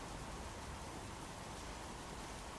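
Rain falling in the video game Big Ambitions, a soft, even, continuous hiss of rainfall at low volume with no voices.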